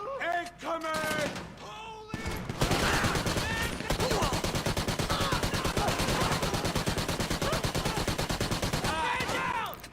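Rapid automatic gunfire from a magazine dump in GTA 5 Online rattles on loud and continuous for several seconds, with brief voices just before it starts and again as it ends.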